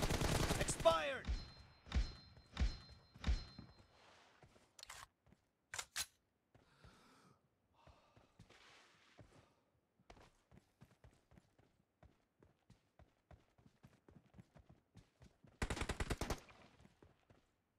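Video game M4 rifle fire in a 1v1 team deathmatch, sharp close bursts of rapid shots at the start and end with scattered fainter clicks and distant pops between.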